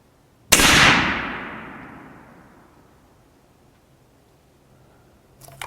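A single loud, close shot from a custom .300 Win Mag precision rifle at an outdoor range, a sharp crack followed by a long, fading echo rolling away over several seconds.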